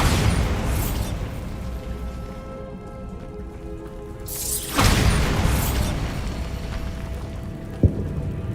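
A Bombarda blasting spell detonates in the video game Hogwarts Legacy: a sudden loud crashing boom with scattered debris rattling down, set against a steady rumbling, rain-like wash of game ambience. A smaller sharp thud follows later.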